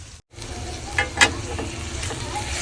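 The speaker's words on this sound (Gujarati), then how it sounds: "બટેટા એડ કરી નાખ્યા છે, પછી આવી રીતના આપણે કરી નાખીએ મિક્સ કરવાના છે બટેટા" Crushed potatoes being stirred into a hot pan, giving a steady soft sizzle with a brief silence near the start and a couple of louder scraping clicks, close up.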